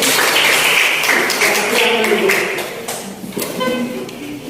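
Schoolchildren in a classroom clap briefly after a closing prayer, a quick scattered burst that fades within a few seconds, with voices talking over and after it.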